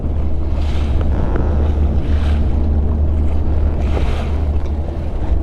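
A boat moves over open water with steady wind buffeting the microphone, a loud, constant low engine and hull rumble with waves washing past in slow surges, and no voices.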